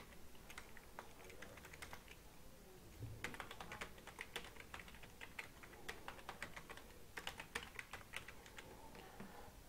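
Fast, steady keystrokes on a computer keyboard as a username is entered during a Joomla install on Windows 10, with dense clicking bursts close up and no talking.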